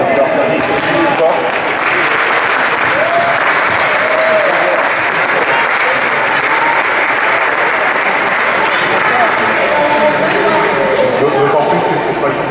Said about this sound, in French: On peut juste applaudir les enfants